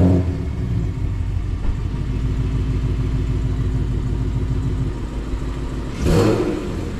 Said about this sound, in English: A nice quiet exhaust.